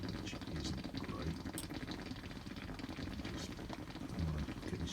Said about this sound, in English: I'm flushing it and I'm getting the boil off in the overflow, which isn't great.